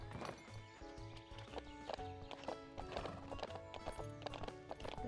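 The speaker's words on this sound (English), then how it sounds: "Horses are just so cute." Horse hooves clip-clop in a steady rhythm in the farming video game Ranch of Rivershine, with bright clicks over soft background music and no speech.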